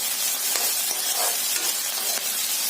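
Mixed vegetables for cutlets fry in a hot pan with a loud, steady sizzle and hiss, broken by a few light stirring scrapes, with no one talking.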